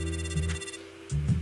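A telephone ringing during a call, a steady electronic ring in two bursts broken by a short pause, heard alone at moderate loudness.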